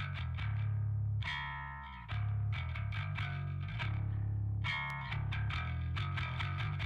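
Bass guitar driven through True Iron transformer saturation on the Euro setting, thick low-end notes with gritty distorted overtones, played in a steady rhythmic riff with short plucked attacks, no voices.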